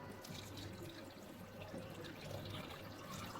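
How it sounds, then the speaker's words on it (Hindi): Water poured into a cooking pot holding beef and onions for degi yakhni beef pulao, a steady faint rushing splash that runs continuously close by. "इसमें अब हम पानी डाल देंगे।"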